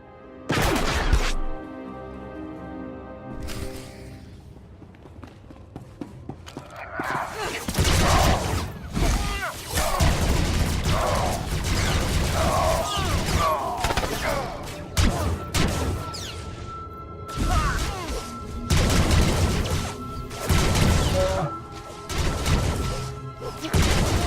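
Blaster and gunfire combat from the Star Wars: The Old Republic smuggler story erupts in a dense, loud barrage of crashing shots and impacts, with voices speaking amid the firefight.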